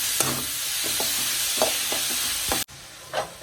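Three sliced onions sizzle in a hot pan as they are sautéed for a rajma dal curry. A steady frying hiss runs throughout, broken by repeated scrapes of stirring and a brief clatter near the end.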